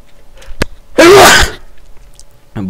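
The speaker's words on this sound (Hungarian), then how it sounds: "Tüsszentés lesz." A single loud, forceful human sneeze bursts out alone for about half a second in a quiet indoor setting, preceded by a faint click and followed by a voice starting to speak.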